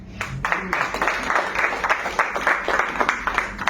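An audience applauding after a speech at an Atomy India event in Morbi, a steady, moderately loud patter of many hands clapping throughout, close and continuous.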